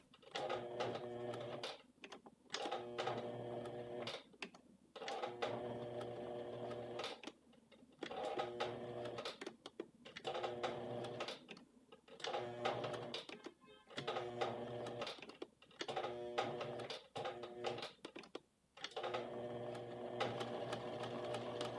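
A sewing machine stitching a shirt collar on a blouse, its motor whirring in steady bursts of rapid needle clatter separated by short pauses, close and even, with no talking.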